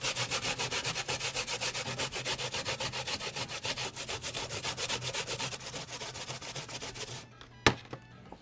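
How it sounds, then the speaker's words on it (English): Fresh coconut is grated by hand in a home kitchen in Paramin, Trinidad, with rhythmic rasping strokes that repeat quickly and steadily at close range for about seven seconds, then stop, followed by a single sharp knock. "So now I'm going to grate coconut."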